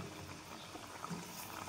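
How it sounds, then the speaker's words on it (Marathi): Sweet wheat-flour puri frying in hot oil over a medium flame, a steady soft bubbling sizzle, quiet and even, with no voices. "तर आता आपण एक एक पुरी तळून घ्यायची।"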